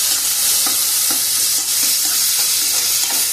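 Tomatoes fry in a pan with a constant loud sizzle, dotted with soft, regularly spaced stirring taps from a spoon moving through them.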